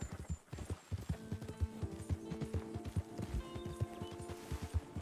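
Horse hooves clip-clop steadily at a walking rhythm in the video game Red Dead Online, close and clear over faint background music tones, with a brief whinny-like sound near the start.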